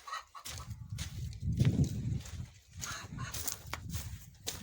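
Farm chickens cluck in soft bursts at close range, with rustling and footsteps moving around them.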